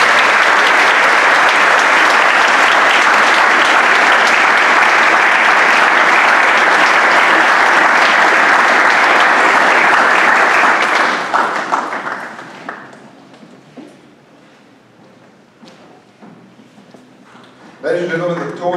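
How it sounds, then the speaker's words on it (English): Loud, dense applause from a large audience filling a hall at a school graduation ceremony, sustained for several seconds before trailing off into scattered claps and quiet, with a sudden burst of sound at the end. "I think we'll give them a round of applause"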